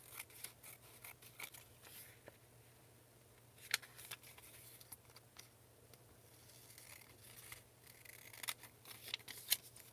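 Quiet, close scissors trimming paper flowers for a junk journal, a series of crisp snips and paper rustles at an irregular pace, with a few sharper cuts standing out against a faint background hum.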